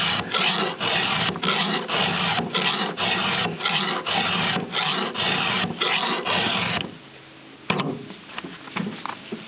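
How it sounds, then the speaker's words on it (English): A hand file rasps against a chainsaw tooth in a rapid, even run of about a dozen strokes, loud and close, then stops, leaving quieter scraping and faint handling noises. "I'm rubbing the file along the cutting edge of the tooth, plus making sure I get a sharp point."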